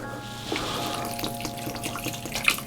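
Water is poured into an arid terrarium enclosure for an orange baboon tarantula, making a close, continuous trickle and splash with a faint droplet near the end.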